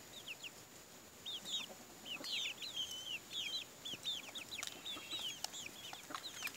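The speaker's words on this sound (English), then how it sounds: "My beautiful chickens." Several chickens on a small homestead cluck and chirp in quick, scattered bursts over a steady outdoor background, close to moderately near, with no one speaking.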